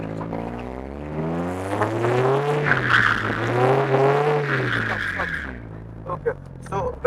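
A drift car circles a drum, its engine rising and falling in long sweeping revs as the tyres skid and hiss, loud and close, with a short final burst of throttle.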